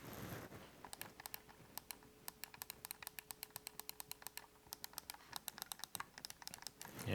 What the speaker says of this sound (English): That D-pad feels very clicky.